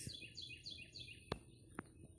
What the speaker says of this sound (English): But the birds are happily chirping in the trees.